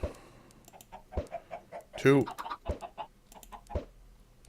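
Chickens in the Minecraft video game cluck in short, clipped bursts scattered across the moment, fairly close and moderately loud, with a brief louder squawk in the middle and a single spoken word heard among them.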